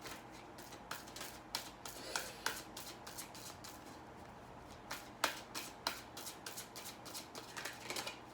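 Keepers of the Light oracle cards shuffled by hand, with crisp riffling and a run of quick flicks and taps close up, and no talking over them.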